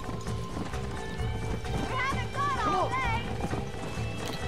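Wild horses in the Red Dead Redemption video game gallop with a steady clip-clop of hooves while one lets out a rising, wavering neigh, with busy game ambience and a voice talking over it.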